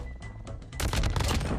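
MG42 machine gun in Call of Duty Mobile rattles out a rapid, dense burst of automatic fire that starts abruptly and stays loud to the end, with fainter shots before it.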